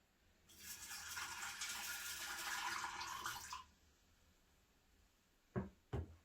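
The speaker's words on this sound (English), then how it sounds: "I'm going to go ahead and add some water to the bottom of my container here" Water pours steadily into the bottom of a plant container holding amaryllis bulbs for about three seconds, a bright splashing stream, then stops; two short knocks follow near the end.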